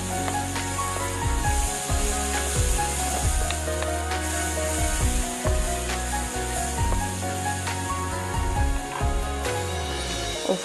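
Onion sautéing in butter with a steady sizzle while a utensil stirs and scrapes the pan, occasional clinks of the spatula against the cookware, close and fairly loud throughout.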